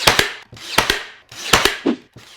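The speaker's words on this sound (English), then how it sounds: "get my 1x2 and attach it with a nailer" A pneumatic nailer fires sharp, loud double-cracks about four times in quick succession, driving nails through 1x2 wood trim onto a DIY dog bed frame, each shot followed by a short hiss, close and alone.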